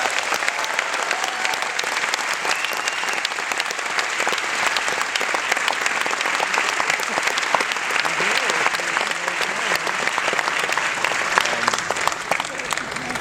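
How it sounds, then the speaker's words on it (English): Sustained audience applause after a Dredd 3D Q&A session with the film's creators, a dense steady wash of many hands clapping at even loudness throughout, with faint crowd murmur underneath. "let's give a round of applause for the creators"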